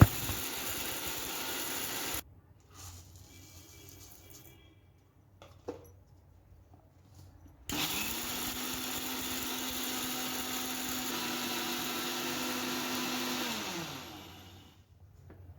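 A mixer grinder pulverises green gram in two runs, a loud even whirring roar, then a brief quiet gap with small clicks, then a longer roar that winds down at the end.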